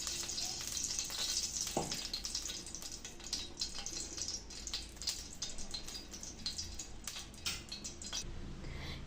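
Ghee heats in a hot pan for jeera rice with a steady close sizzling hiss and scattered soft crackles and pops, no voices.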